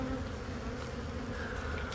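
Honey bees buzz steadily inside an open hive, a dense continuous drone filling the space close up, with no speech.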